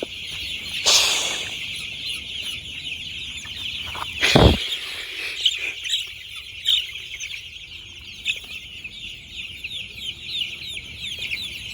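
Many chicken chicks chirp and cheep continuously in a shed during a power cut, a dense high-pitched chorus with occasional louder clucks and a sharp thump.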